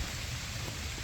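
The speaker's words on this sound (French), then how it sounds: "il pleut de plus en plus fort" Rain falls steadily during a mountain hike, a dense, even hiss of drops on surfaces with no talk.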